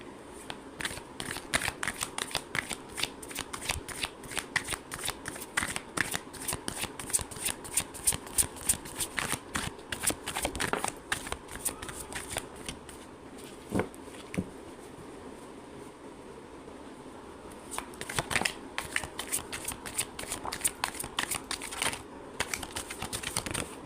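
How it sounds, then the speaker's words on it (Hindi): Tarot cards are shuffled by hand in rapid, repeated riffling bursts of crisp flicks and slaps, close and fairly quiet, with a brief lull partway through. "तो मीनवाइल में कार्ड शफल करूँ,"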